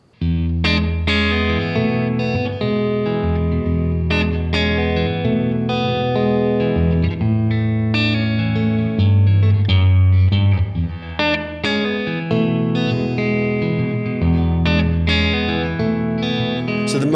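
Electric guitar played through a Boss RV-2 digital reverb pedal, sustained chords and notes ringing with a washy reverb tail, loud and continuous with no voices.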